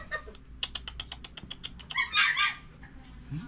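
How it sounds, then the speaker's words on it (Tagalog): Several dogs bark in a rapid, evenly spaced series of yaps at moderate distance, then rise into a louder, overlapping burst of barking and howling before fading. "Maingay mga aso."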